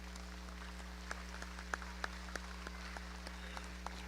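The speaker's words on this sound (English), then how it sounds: "Let's give the young man a big round of applause." Light, scattered audience applause at a 4-H hog show at a county fair, distant clapping with a few sharper claps standing out over a steady low hum from the show barn's sound system.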